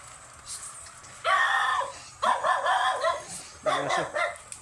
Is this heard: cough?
no